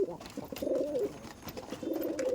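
A pigeon pair in a loft coos close by in two distinct, warbling throaty calls with a short pause between them, over light background noise.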